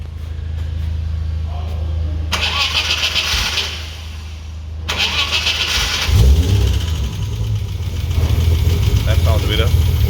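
A car engine with newly fitted injectors cranks and catches, then runs and revs unevenly, with people talking nearby over the engine noise.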